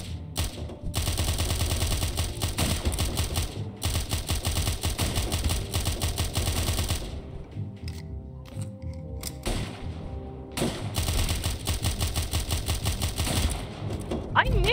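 Rapid gunfire from a mafia hitman shootout in the video game Of Murder and Moonshine, long stretches of fast repeated shots with a short lull in the middle before the firing resumes, loud and continuous.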